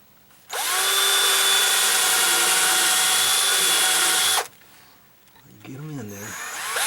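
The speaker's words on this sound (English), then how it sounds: "I'm glad I'm drilling these, pre-drilling those" Power drill pre-drilling screw holes for a gate latch near the edge of the wood, one steady loud whir of about four seconds that stops abruptly, followed by a brief voice.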